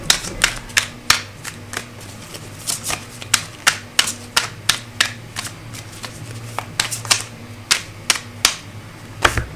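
Tarot cards being shuffled and drawn in a quiet room, a steady run of crisp, close card slaps and riffles at irregular intervals over a low background hum.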